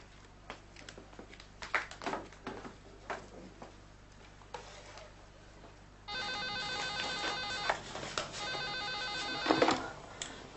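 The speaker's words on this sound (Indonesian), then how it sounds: "mau pinjam telepon" A telephone rings during a call in an old Indonesian TV drama, a repeating electronic trill arriving after several seconds of quiet rustling and soft ticks, fairly loud and close.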